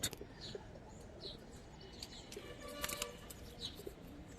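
Silver-colored and army pigeons at a market coo softly in a low, rolling murmur under a steady background bustle, with occasional faint chirps scattered through.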